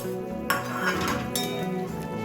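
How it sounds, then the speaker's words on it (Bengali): A metal lid lifts off a pan of eggs cooking over low gas heat, giving a brief clink and rattle before soft sizzling and bubbling carry on close by, with nobody talking. "মিনিট 4 পর আমি ঢাকাটা খুলে দিলাম।"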